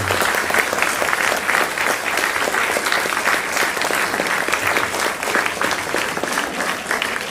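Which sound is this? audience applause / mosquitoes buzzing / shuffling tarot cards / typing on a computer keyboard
audience applause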